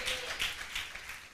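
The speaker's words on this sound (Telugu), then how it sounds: "చప్పట్లు కొట్టండి గట్టిగా, దేవుని స్తోత్రం చెప్పండి." A church congregation claps hard together during a sermon, a brief run of rhythmic, fairly loud collective claps in a reverberant hall.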